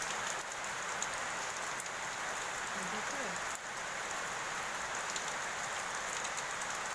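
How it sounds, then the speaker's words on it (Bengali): Steady rain falls continuously, a dense even patter on surfaces close by, with a person briefly speaking under the wash of sound. "দেখো বৃষ্টি হচ্ছে"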